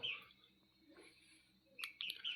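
Two orphaned baby dove chicks give faint, high, thin chirps: a short burst at the start and a few more near the end, with near-silence between.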